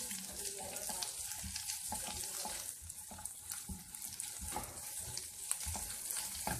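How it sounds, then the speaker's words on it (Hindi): Ginger garlic paste frying among softened onions in a pan for baingan bharta, a dense, even sizzle heard fairly faintly, with a few soft stirring knocks and no speech. "अब हम इसमें अदरक लहसुन का पेस्ट डालेंगे और इसे भी अच्छे तरीके से फ्राई कर लेंगे।"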